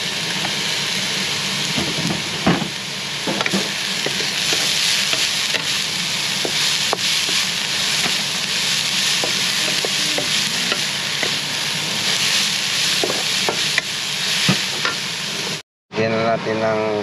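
Bamboo shoots fry in oil for Ilocano adobo, a loud continuous sizzle close up with frequent sharp scrapes and taps of stirring, briefly cutting out near the end.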